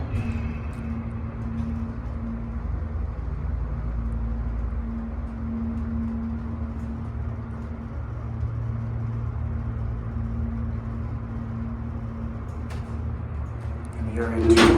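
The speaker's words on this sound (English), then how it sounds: "let's listen to this motor." A vintage Haughton hydraulic elevator motor with a 4,000 pound capacity drones in a steady low hum that runs for most of the stretch, ending in a louder burst of sound.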